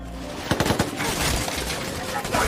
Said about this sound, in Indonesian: kita diperlihatkan adegan baku tembak antara seorang polisi lokal dengan kelompok ISIS